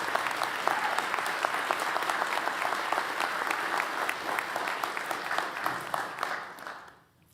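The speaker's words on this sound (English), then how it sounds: "And that deserves a round of applause." An audience at a county government State of the County address claps steadily for several seconds, dense applause that fades out at the end.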